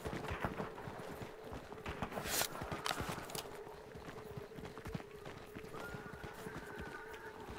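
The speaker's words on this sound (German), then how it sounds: "vor mir höre ich auch das Pferd wiehern" Horse hooves clip-clopping steadily in the Hunt: Showdown video game, a fast rhythmic run at moderate distance, faint under dense game ambience, with a brief whinny-like tone near the end.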